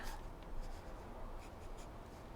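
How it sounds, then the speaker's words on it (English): Pencil sketching on paper, quick rough strokes laying down darker lines while drawing rocks for a beach thumbnail, a steady scratchy hiss with short bursts of stroking, close and fairly quiet. "this is where it's fun to have a pencil that's actually leaves kind of a darker line"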